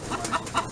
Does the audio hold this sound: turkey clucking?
yes